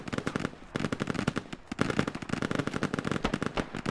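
Heavy gunfire during a large river crossing assault in the military shooter Squad: dense, rapid bursts of automatic fire with sharp cracks, loud and near, keeping up almost without pause.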